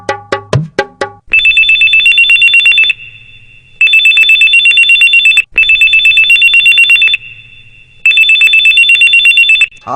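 A telephone rings loudly and close by, its electronic ringtone sounding in long repeated bursts separated by short pauses, after a few sharp taps at the start.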